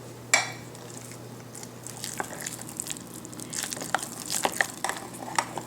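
Spoon stirring zucchini muffin batter with lemon zest and egg mix in a bowl, soft wet scraping and light clinks against the bowl, close and quiet, with a steady low hum underneath.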